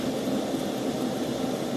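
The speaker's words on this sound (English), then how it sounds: "Might be a bit noisy because the fan's on." A fan runs with a steady, even whirring hum that holds unchanged throughout, nearby and moderately loud.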